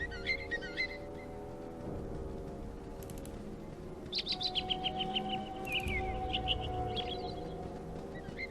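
Birds chirp and call intermittently over a quiet outdoor ambience in the video game Baldur's Gate, with a few faint distant animal cries mixed in; no talking.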